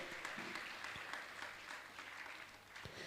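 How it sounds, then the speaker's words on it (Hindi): Audience applause at a Jain religious gathering, faint and distant, with scattered claps and a few louder individual claps standing out against a steady low wash. "जोरदार ताली बजाकर इनका सम्मान करें"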